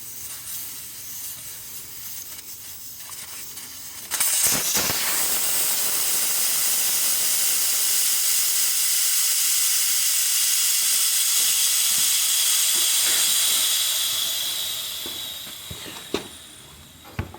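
Air hisses loudly and steadily from the valve stem of a flat riding mower tire once the valve core is pulled, tapering off near the end with a few small clicks.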